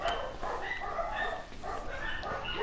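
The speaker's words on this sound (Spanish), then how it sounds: "A veces cuando ladran suena chistoso." Dogs keep barking in the background over an arcade fighting game, a steady run of overlapping barks mixed with the game's sounds.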